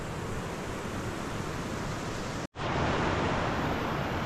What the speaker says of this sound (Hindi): नेचुरल का ये नदी का आवाज़ आपको हर जगह मिलेगा